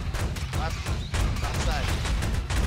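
Rapid, dense gunfire from the sci-fi shooter game Space Beast Terror Fright crackles continuously in loud bursts, with players talking over the shooting.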